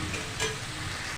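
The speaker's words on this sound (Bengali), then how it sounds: "কেটে রাখা টমেটো দিয়ে দিচ্ছি, সব শেষে দিয়ে দিচ্ছি কিছুটা লবণ। ভালো করে আমি কষিয়ে নেব" Chopped tomatoes sauté in a hot pan of masala with a continuous dense sizzle, close and steady throughout, ending abruptly.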